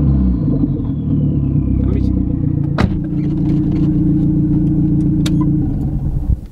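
A Dodge Neon SRT4 OG Edition engine at full throttle, a loud, steady, deep rumbling drone with a single sharp crack partway through, heard up close and alone.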